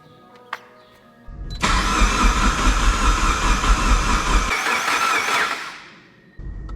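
Engine of a Mitsubishi Lancer Evo 4 cranking on its first start attempt with new plugs: a loud, steady starter grind with an uneven engine churn that runs for several seconds without catching, then winds down.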